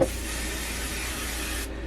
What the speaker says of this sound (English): And then spray. I'm going to spray over here.